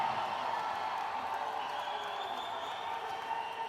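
A basketball arena crowd in Camarines Sur during a league finals game sends up a sustained, distant roar of cheering and applause that stays fairly even throughout, with no clear talk over it.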